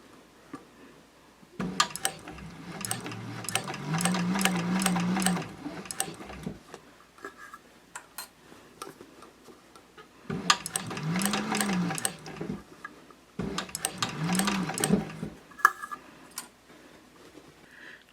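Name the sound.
sewing machine sewing on binding, stitch length 4.0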